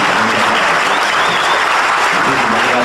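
Strong, sustained applause from an audience at a Spanish-language talk, a dense steady wash of clapping filling the whole stretch without any voices.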